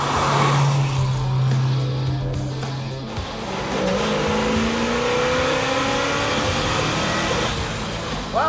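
A 1956 Chevy with a 265 engine accelerates on the street, a loud close engine note climbing steadily in pitch as it pulls through the gears, with road and wind noise beneath it.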